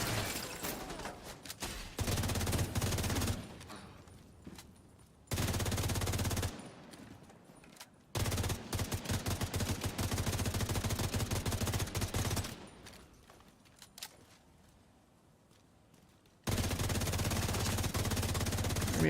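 Light machine gun fire from enemies in the video game The Division 2: long, loud sustained bursts of rapid automatic fire, broken by short pauses and quieter gaps.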